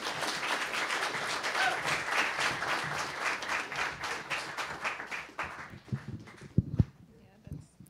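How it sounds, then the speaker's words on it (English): A crowd at a sustainable building research talk applauds steadily for several seconds, the clapping thinning out before a voice starts talking. "let's give them a round of applause"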